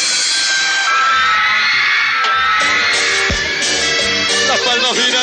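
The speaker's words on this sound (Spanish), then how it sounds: "Los aplausos bien fuertes." A live concert audience cheers, whoops and shouts loudly and continuously, with music and crowd noise filling the whole stretch.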